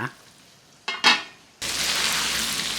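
Beef liver stir-fried with chili curry paste in a pan, a loud steady sizzle that swells suddenly after a couple of brief clinks and scrapes of utensils.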